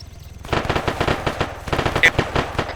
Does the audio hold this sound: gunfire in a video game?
yes